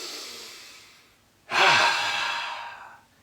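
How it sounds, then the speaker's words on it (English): A single deep breath: a soft exhale fading out, a brief pause, then a loud, sharp inhalation that tapers off over about a second and a half, heard close and alone with no speech. "So take a deep breath."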